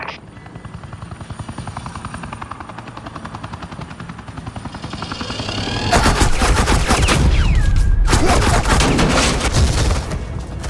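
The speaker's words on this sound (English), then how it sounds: "Suppressing fire." Rapid automatic gunfire erupts as suppressing fire in the Batman: The Enemy Within video game, loud dense bursts over a steady helicopter rotor thump that runs throughout.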